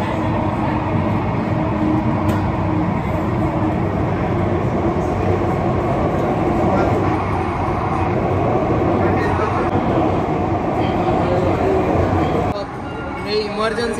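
A Mumbai Aqua Line metro train closes its doors and pulls away, a loud, continuous rumble and whir heard from inside the car, with voices under the running noise and a brief drop near the end.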